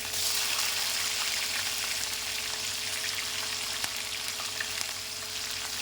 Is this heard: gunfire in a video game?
no